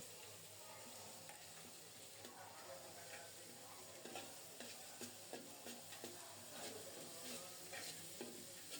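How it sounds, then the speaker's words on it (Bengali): A spice paste of ground coriander, cumin, ginger, garlic, cinnamon and cardamom sizzles steadily in a pan while a spoon stirs it, with frequent scraping clicks over a constant frying hiss and no talking. "মশলাটাকে নেড়ে ছেড়ে খুব ভালোভাবে কষিয়ে নেব"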